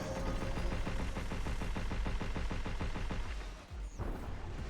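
Video game gunfire in a rapid, steady stream of loud shots that hammers on almost without pause, briefly dipping near the end before resuming.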